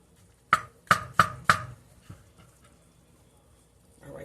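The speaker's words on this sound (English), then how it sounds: "we're going to finish chopping up these white mushrooms" A knife chops through white mushrooms on a board with four crisp, evenly spaced strikes, then a few softer taps trailing off, close and clear in an otherwise quiet kitchen.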